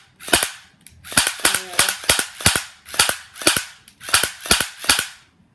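An H&K P30 airsoft blowback pistol firing sharp, loud, close cracks, single and in quick pairs, roughly a dozen shots with short gaps between them.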